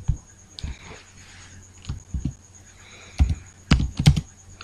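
Typing text on a computer keyboard, several short bursts of clicking keys, close and moderately loud, with quiet pauses between.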